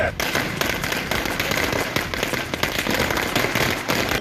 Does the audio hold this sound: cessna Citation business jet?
no